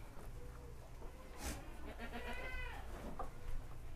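Goats of the Jawa Randu, Saanen and Boer breeds bleat on a livestock farm, a wavering bleat standing out over steady barn noise, with a couple of shorter calls nearby.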